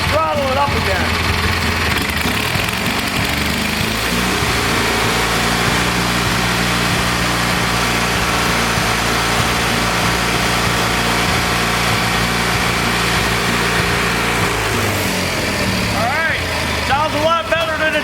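A Kohler Magnum 20 engine with a freshly done valve job runs loud and close, rising to a higher, steady throttled-up drone before the revs drop again near the end.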